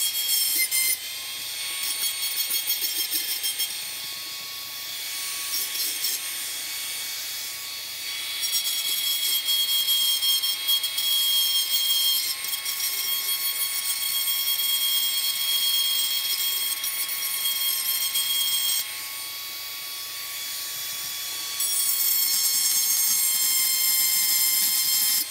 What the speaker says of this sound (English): I'm just gonna touch them up with the Dremel, and they should be good